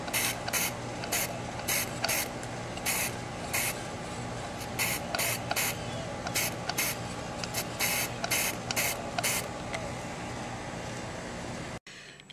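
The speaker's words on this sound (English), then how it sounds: "I'm going to spray it now with Krylon UV resistant coating" Krylon UV resistant coating sprays from an aerosol can outdoors in repeated short hissing bursts, close and fairly quiet, with brief pauses between each spray.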